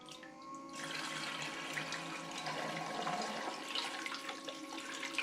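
Water runs from an adjustable-flow dial as a fine, steady trickle, a continuous gentle hiss with faint bubbling that holds at an even, close level throughout, with no one talking over it.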